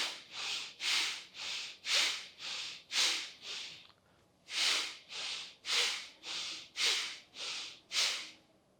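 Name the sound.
forceful Kapalabhati pranayama breathing exhalations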